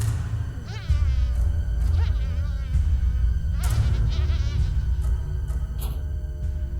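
A housefly buzzes close by with a continuous droning whine that swells and dips as it flies about. Nobody speaks.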